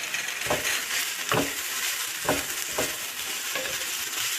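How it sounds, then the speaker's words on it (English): Red pepper and mushrooms fry in a pan for a vegan omelette, a steady close sizzle broken by several soft scraping stirs. "we're going to sweat this and cook this for about 5 minutes until the mushrooms are kind of soft and cooked"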